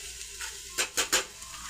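Bitter gourd pieces cook in oil in a pan, a faint low sizzle under three quick, close scraping strokes of a spoon stirring, with no voices.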